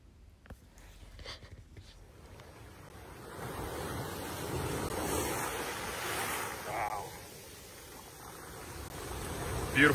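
Ocean waves wash and surge by the water while wind rushes across the microphone, a steady broad roar that swells midway and near the end.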